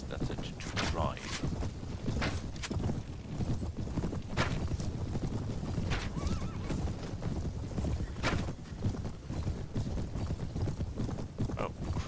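Horse hooves clip-clop in quick, rhythmic beats through the Mount & Blade game, a steady run with occasional louder hoof strikes.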